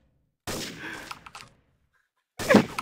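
Gunfire in the video game CS Classic Offensive: a loud burst of shots up close, then quiet, then another sharp shot near the end.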